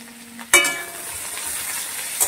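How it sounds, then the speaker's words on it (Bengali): Spices with turmeric and salt fry in a pan with a soft sizzle. A sharp clatter of stirring comes near the start and another near the end. "এভাবে মশলাটাকে আমি ভেজে নেব।"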